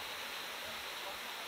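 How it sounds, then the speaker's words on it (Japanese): Sea surf at the Shiroyone Senmaida rice terraces on the Noto coast, a faint, steady wash of broadband roar heard from a distance, continuous and unbroken. "海の潮鳴りが聞こえますでしょうかね"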